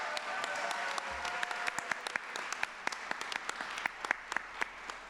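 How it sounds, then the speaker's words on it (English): An audience at an equity awards ceremony applauds the awardees, a soft, distant patter of clapping that thins out into scattered individual claps toward the end. "can we have another round of applause for our awardees?"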